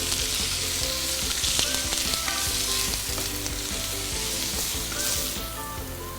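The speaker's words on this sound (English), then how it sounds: "continue sauteing them for 1 or 2 minutes" Kailan greens with carrot sautéing in a pan for a fishhead tofu stew, a steady loud sizzle with scraping stir strokes running throughout, no voices.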